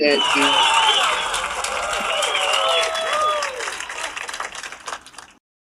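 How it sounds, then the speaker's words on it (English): A small studio group claps in welcome for new team members, the clapping mixed with whoops and excited voices, loud at first and then tapering off. "So let's clap it out one time for them."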